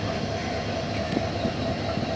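A passenger express train runs through Chittagong district in Bangladesh with a steady rumbling roll and faint rhythmic wheel clatter, heard from on board at moderate, even volume.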